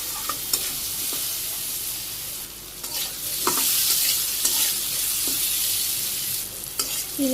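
Taro pieces frying lightly with salt in a pan make a gentle steady sizzle that swells midway, with intermittent spatula taps and scrapes against the pan, close and without voices.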